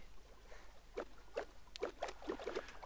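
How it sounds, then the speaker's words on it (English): Faint, rhythmic watery splashes and sloshes of a small boat moving across water in Minecraft, repeating every half second or so over a quiet background. "We have to apologise for the sound of the boat."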